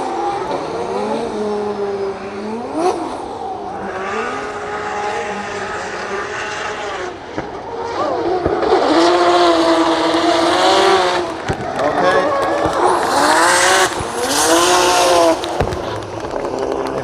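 A drift car on a solo practice run at Drift Masters in Finland roars loudly, its engine revving up and down in sweeping surges, with a harsher, noisier stretch of tire squeal in the second half.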